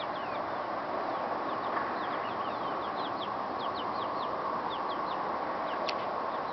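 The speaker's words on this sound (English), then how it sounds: "Frizzle Cochin Bantam. And we give her 2 babies, and she loves her babies." A Frizzle Cochin Bantam hen clucks softly among her two chicks in a garden, while the chicks peep in repeated high chirps over a steady background hiss.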